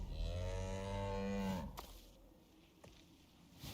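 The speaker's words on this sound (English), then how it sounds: "I did hear the mooing. That's a Tusker." Tusker creature in the Icarus video game gives a long, deep, loud moo lasting over a second, followed by quieter thuds and ambient game sounds.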